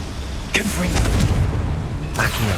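Confringo blast spell exploding in Hogwarts Legacy, two forceful booming bursts roughly a second and a half apart, set against a loud, rumbling game soundscape with a voice briefly present.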